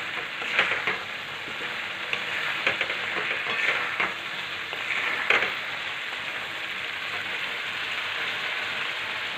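Halwa being stirred in a pan over a medium gas flame, with a steady sizzling hiss and soft scraping strokes at an irregular rhythm, close and moderately loud, with no voices.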